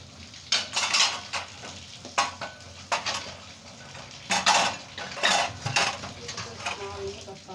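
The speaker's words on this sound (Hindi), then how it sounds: "ये मैं बर्तन धो लूँ जल्दी जल्दी।" Dishes, pots and cutlery being washed quickly in a home kitchen, with repeated clattering knocks and scraping metal clinks in irregular bursts over running water, fairly close and moderately loud.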